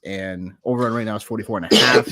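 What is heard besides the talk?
cough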